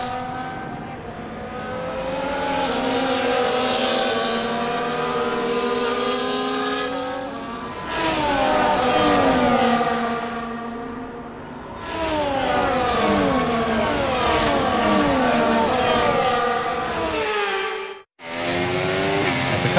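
F1 cars from the F1 24 racing game on the formation lap at Monaco, engines droning and revving steadily and loud with shifting pitches for about eighteen seconds, then a sudden brief drop before the roar resumes.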